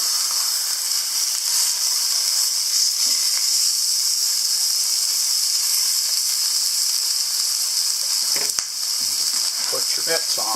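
Steak sizzles on an off-grid grill after being flipped, a steady bright hiss with faint crackles throughout and a sharp click near the end.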